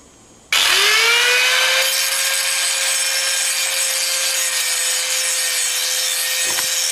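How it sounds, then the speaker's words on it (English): Grinder biting into steel to thin down a steel barge piece: a loud, continuous abrasive grinding starts abruptly after half a second with a steady rising whine, holding nearly unchanged close by until a short break at the end. "I'm going to grind it quite a lot thinner on most of it along there."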